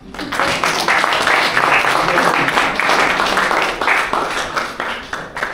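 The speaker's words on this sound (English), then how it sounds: "Let's clap for ourselves." Audience applause at a family and sexual violence panel event: dense, steady clapping from a roomful of people, loud and sustained for about five seconds before tapering slightly at the end.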